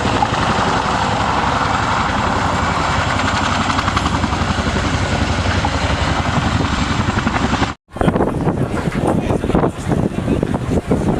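A Chinook twin-rotor helicopter flying at the Cosford airshow produces a loud, continuous rotor thrum close by, cut off briefly before the rumbling resumes.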